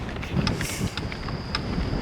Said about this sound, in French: Il fait 11 degrés, mais le vent, il fait mal.